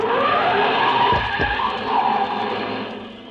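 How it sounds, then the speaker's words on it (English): An old-time radio drama sound effect of a car starting up down the street and speeding off, with a burst of engine and tire skid rising over a steady noisy bed, moderately loud and without voices. "a car started up down the street"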